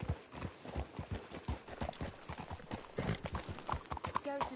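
Steady clip-clop of horse hooves at a walking rhythm in Red Dead Redemption 2, fairly close, with a brief whinny near the end and some talk mixed underneath.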